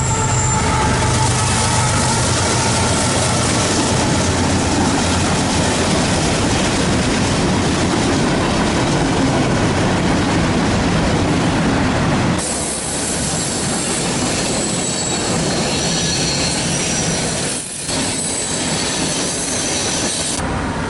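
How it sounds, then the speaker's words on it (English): A long train rolls past Tunnel Hill loudly with constant rumbling and clattering wheels, then the noise thins slightly as the cars continue going by. "we're lucky to actually see a train pass by today"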